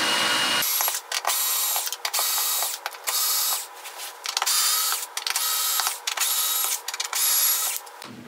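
A power screwdriver whirs loudly and close, in repeated bursts broken by brief pauses, as it removes the screws holding the battery of a DIY electric longboard.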